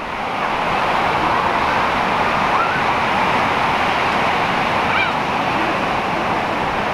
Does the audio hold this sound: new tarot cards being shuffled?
no